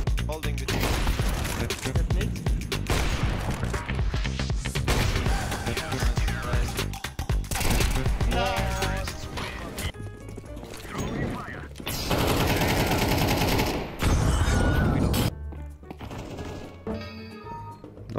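Rapid gunfire bursts from the video game Counter-Strike, played by NAVI's s1mple, ring out almost without pause, loud and close, with a voice talking over parts of it.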